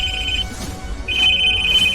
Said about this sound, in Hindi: 2 रिंग के बाद ज्योति के पापा ने फोन उठाया